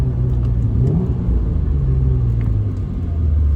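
An Alfa Romeo Milano Verde sedan engine rumbles steadily from inside, rising in pitch as it accelerates, then settling into a lower, continuous drone.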